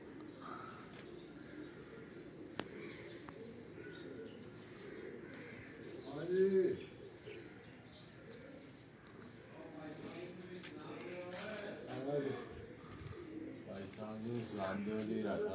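Pigeons cooing and flying, soft low coos rising briefly mid-way and again later, faint and somewhat distant beneath outdoor chatter, with people talking throughout.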